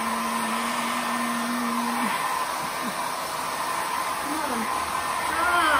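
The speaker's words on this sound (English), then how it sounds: "Get the hair dryer out." A hair dryer blows steadily at close range to dry acrylic paint on an artwork, a continuous whooshing hum with a motor whine that holds for several seconds.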